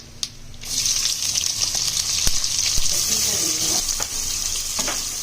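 Chopped onions hitting hot oil with spices for a masala pumpkin dish, a loud close sizzle that starts abruptly and holds steady, with scattered clicks and scrapes of stirring throughout.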